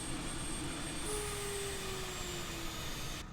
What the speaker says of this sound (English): When that happens, that's the APU turning off